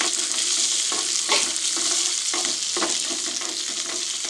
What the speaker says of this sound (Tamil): அடுப்பை சிம்மில் வச்சு நம்ம வறுத்துக்கலாம்